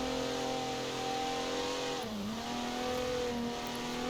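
A car in the Forza Horizon racing game drives at speed and brakes into corners, its engine droning steadily with a brief dip in pitch as it slows, then carrying on at a constant loud level.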